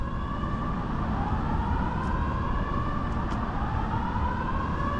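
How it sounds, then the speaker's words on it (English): A wailing emergency siren near Niagara Falls, USA, rising and falling steadily and loud throughout, alone with no voices over it. "And siren. I don't know what is this."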